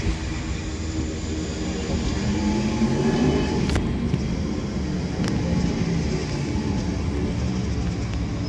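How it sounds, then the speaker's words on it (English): A London Northwestern Railway service to Birmingham New Street pulls into Runcorn station on the West Coast Main Line, a steady low rumble of wheels and motors holding throughout with a few sharp clicks and squeals over it. "Our arriving in is going to be the 1431 London North Western Railway service to Birmingham New Street"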